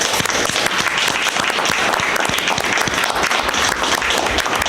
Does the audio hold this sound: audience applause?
yes